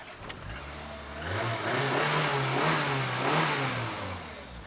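A Renault 12 TX car engine runs close by, rising from idle into a few revs and easing back down again, loud and steady with no voices.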